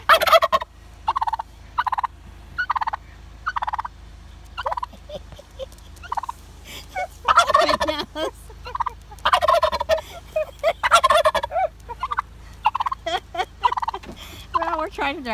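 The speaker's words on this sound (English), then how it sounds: "we're trying to drive down the road and a turkey's following us." A wild turkey gobbles repeatedly and loudly close by in a series of rapid, rattling bursts that come in irregular clusters, with no talk.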